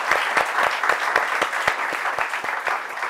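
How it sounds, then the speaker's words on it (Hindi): A studio audience on a TV business show greets a guest with steady applause, dense clapping with a few sharper hand claps standing out, continuous and even for the whole stretch. "आपका उनका जोरदार तालियों के साथ इस मंच पर स्वागत।"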